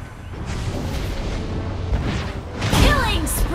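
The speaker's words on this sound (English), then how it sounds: "Your team destroyed a turret!" Rumbling boom and burst effects from a turret being destroyed in a multiplayer battle arena game, a continuous dense barrage with a louder swell near the end, layered with announcer voice callouts.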